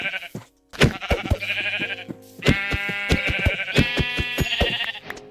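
Sheep bleat repeatedly in a Minecraft-style survival game, loud and close, with several overlapping calls mixed with clicks and short game effects and no talking.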